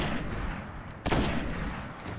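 A sniper rifle in the game Destiny fires a single sharp, loud crack midway through, following a low rumbling background of combat ambience.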